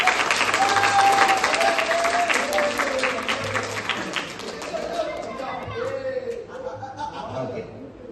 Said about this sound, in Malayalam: കൈയടിച്ചല്ലേ? എന്നാ ഒന്നുകൂടെ കൈയടിച്ച്.